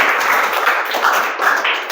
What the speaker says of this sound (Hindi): ताली बजाएं आप लोग।